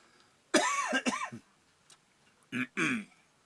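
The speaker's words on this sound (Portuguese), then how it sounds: "Teve um pouco de tosse, por isso que atrapalhou a filmagem." A person coughs several times up close, a harsh burst of three coughs followed after a pause by two more.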